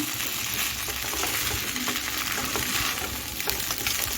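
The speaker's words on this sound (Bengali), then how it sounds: "এখন আমি সবজির সঙ্গে হালকা হাতে জিরাটাকে মিশিয়ে নিচ্ছি" Vegetables and cumin are stirred in a frying pan while making chirer polao, flattened rice pilaf. A steady, dense sizzle runs throughout with soft scraping stirs, close and continuous, with no talking.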